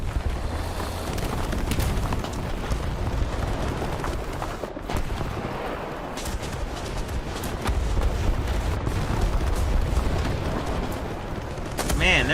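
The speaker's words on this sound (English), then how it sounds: "there is artillery everywhere" Artillery fire in the War Thunder tank game, with repeated booms and blasts amid constant battle noise from a Merkava Mk.3D main battle tank, dense and rumbling throughout.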